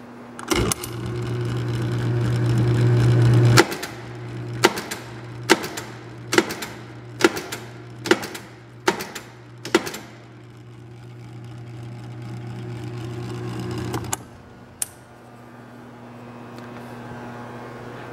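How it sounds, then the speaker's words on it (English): A Perkins 3 ton benchtop punch press, 110 volt single phase, hums steadily while running and strikes a series of about eight sharp, evenly spaced punches in the middle before carrying on alone. "Nice clean benchtop press."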